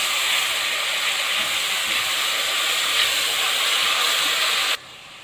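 Ginger garlic paste hits light-browned onions in a hot pan for a Bhindi Gosht curry, giving a loud, steady steamy sizzle and hiss that holds evenly before dropping off abruptly near the end, with no talking.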